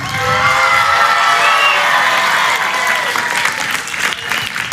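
A studio audience on a French TV show bursts into loud, sustained applause mixed with cheers and whoops for a young girl named Angelina.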